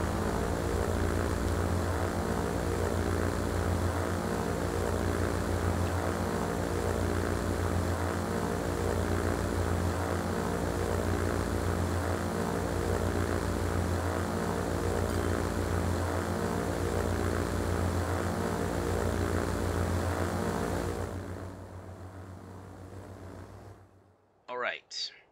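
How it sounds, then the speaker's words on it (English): A propeller airliner in Transport Fever 2 taking off from London: a loud, steady engine drone with a low throbbing pulse holds for about twenty seconds, then fades away, leaving brief faint noises at the end. "Taking off from London, let's just see how far the plane will go."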